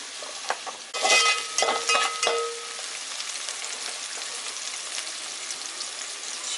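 Vegetables for veg chowmein stir-fried in a pan, starting with a burst of loud sizzling and spatula scraping, then settling into a steady, softer hiss of frying, close by and without talk.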